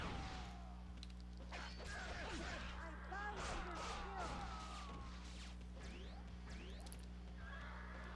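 A horse neighs loudly in the Dynasty Warriors 4 video game, its whinnies rising over hoofbeats and the clatter of battle in a steady, busy game soundscape.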